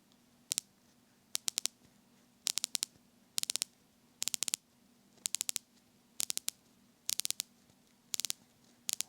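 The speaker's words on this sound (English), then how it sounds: "it's like the nicest clicking bezel of any watch I've ever used" Watch bezel on a Tudor Black Bay 58 being turned, giving crisp, close clicks in short bursts of three to five, repeated every second or so against a quiet background.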